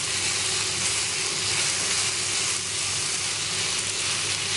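Mushrooms cook in a pan with a dense, steady sizzle and hiss that holds even and close from start to finish.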